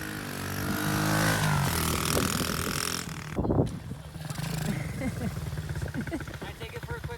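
An 85cc Tao Tao pit bike engine revs up in a snowstorm, rising and falling in pitch with a sharp burst midway, then settles into a rough idle while people talk over it.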